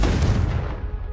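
A Confringo blasting curse from Hogwarts Legacy bursts with a single loud, close explosive boom that rumbles and decays quickly.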